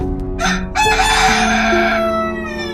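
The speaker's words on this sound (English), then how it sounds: "And the white rooster crowed." A white rooster crows loudly and close, one long ringing cock-a-doodle-doo with rising then sustained tones, heard alone.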